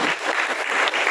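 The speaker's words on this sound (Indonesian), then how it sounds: "kita harus tepuk tangan dulu untuk mereka yang hebat." Brief burst of dense applause from an audience at a culinary school practical exam event, steady and moderately loud clapping with no talk over it.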